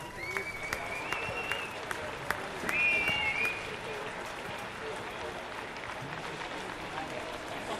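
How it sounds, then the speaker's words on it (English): Crowd applause at the podium ceremony of the 2016 Hankook 24H Silverstone endurance race, a steady, moderately distant wash of clapping lasting throughout, with a brief swell near the middle and faint whistles or cheers above it. "Big round of applause, please."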